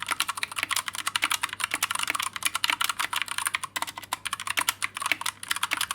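Rapid, steady typing on a Pressplay Apollo61 budget custom mechanical keyboard, with dense, crisp, close-up key clacks and no voices.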